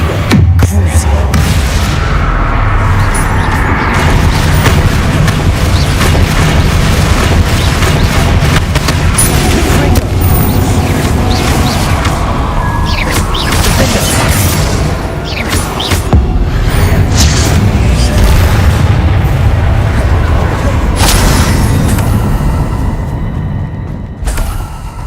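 Bombarda and Confringo spells fire repeatedly during a fight against Inferi in Hogwarts Legacy, with a continuous barrage of booms, bangs and crashing impacts over a dense combat din and occasional talking.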